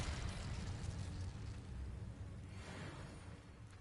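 A fire spell in the Hogwarts Legacy video game bursts out as a loud, continuous fiery roar and rumble lasting several seconds, with a heavy low-end rush and a brief swelling whoosh near the end.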